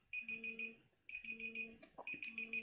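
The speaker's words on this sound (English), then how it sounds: "Stop the timer here." A timer alarm goes off at the end of a timed portrait drawing session, beeping in two steady bursts of rapid electronic pulses with a short gap between them, a few faint clicks and knocks mixed in.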